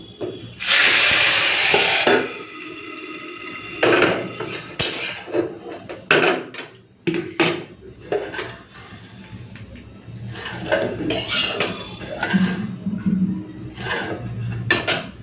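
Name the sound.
pouring fried cumin into khichuri pot and covering with lid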